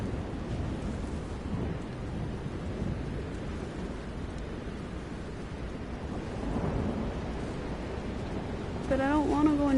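A thunderstorm in Elder Scrolls Online gives a loud, continuous rumble and wash of rain that swells slightly toward the end, with a voice talking briefly at the close.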